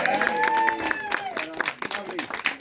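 A crowd claps and cheers loudly for a few seconds, the applause thinning into scattered claps by the end.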